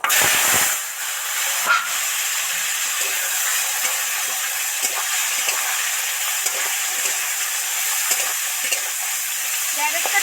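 Potatoes and tomatoes frying in a pan with panch phoron and bay leaf, a loud steady sizzle and hiss running throughout with occasional stirring scrapes, no talk.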